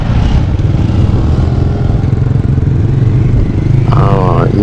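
A SYM 250i EVO motorcycle engine runs steadily during a ride, a loud continuous low drone with wind rumble, and a brief voice or horn-like tone rises near the end.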